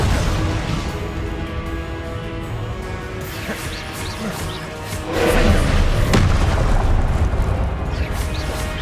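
Blasting spell explosions in the Hogwarts Legacy video game boom amid continuous battle noise, a heavier burst hitting around the midpoint and sharp impacts following, while a voice shouts spell names.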